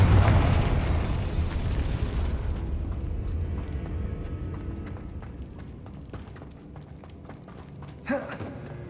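A Confringo blast spell explodes in the video game Hogwarts Legacy, a loud booming burst at the start that rumbles and decays over several seconds, with a smaller pop near the end.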